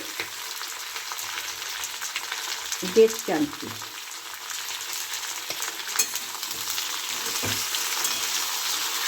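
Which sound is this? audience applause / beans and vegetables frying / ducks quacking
beans and vegetables frying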